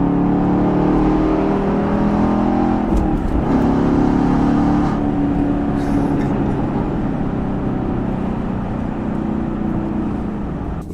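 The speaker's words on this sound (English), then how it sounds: "Let me let y'all hear this exhaust." Chevrolet Camaro SS 1LE V8 exhaust roaring loudly under hard acceleration, rising in pitch through the gears with a brief dip near the three-second mark as it shifts, close and continuous with no talking.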